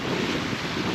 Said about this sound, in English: Wind has picked up. From almost no wind to pretty windy